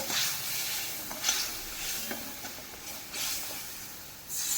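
Water hits a hot pan of sizzling turmeric and chili while stuffed pointed gourd is being cooked, producing a steady frying hiss that swells into several sharper bursts of spitting sizzle.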